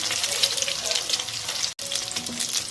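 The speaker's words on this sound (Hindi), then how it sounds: "अक्सर लोग जब अपने घरों में अंडे और छोले वाले अंडे बनाते हैं तो उसको ऐसे फ्राई नहीं करते।" Eggs and chickpeas for an egg dish fry in a pan with a steady, loud, broadband sizzle and some watery bubbling, continuous except for one brief dropout near the end, with no talking.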